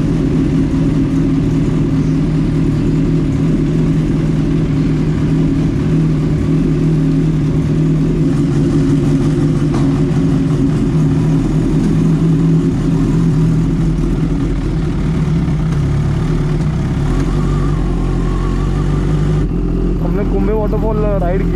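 A Kawasaki Ninja H2 motorcycle riding at speed, its engine a loud steady drone under heavy wind rumble throughout.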